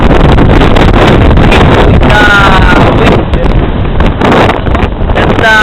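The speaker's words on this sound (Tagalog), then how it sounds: "Oh, super windy." Strong wind on Mt. Tagapo buffets the microphone with a loud, continuous roar and rumble, and faint voices are audible beneath the gusts.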